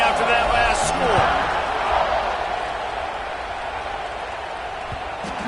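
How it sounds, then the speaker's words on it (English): A stadium crowd in the College Football 26 video game keeps up a steady, roaring buzz after a score, loud and sustained, with a few brief thumps near the start and no clear talking. "this crowd is buzzing after that last score"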